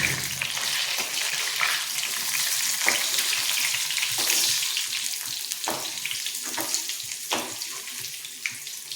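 Taro root slices fry in oil on a flat pan, giving a steady, close hiss and sizzle with scattered crackles and pops throughout, and no voices.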